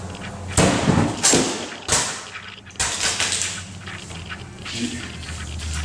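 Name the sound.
steel katana test slicing strike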